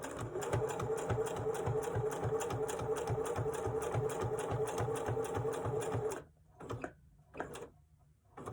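Close-up sewing machine stitching a wallet, a steady rhythmic mechanical chatter for about six seconds, then a few slow separate stitches as it eases to a stop at the end of the seam.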